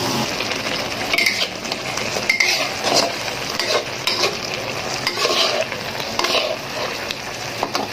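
Pumpkin stir-frying in a pan with sugar, a sizzling base broken by repeated scraping and clinking of a spatula against the pan.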